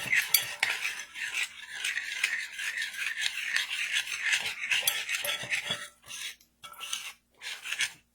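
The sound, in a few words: mixing eggs, peanut butter and cinnamon sugar in a bowl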